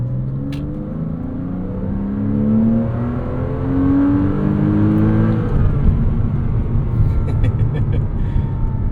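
A car's 3.4-liter flat-six engine revs hard and close, its pitch climbing steadily in a rising growl before settling into a loud, rough roar.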